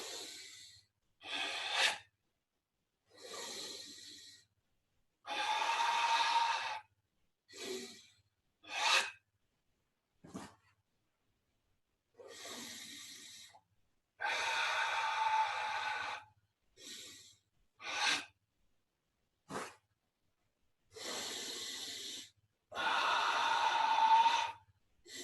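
Breathing exercise during an online class: a series of audible inhales and exhales, some sharp and others longer, repeated in irregular bursts with pauses between, fairly quiet and with no talking.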